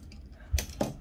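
Scissors snip through crochet yarn after a finished zipper pouch edge: two quick, close metallic cuts a moment apart, fairly quiet in a still room with no talking.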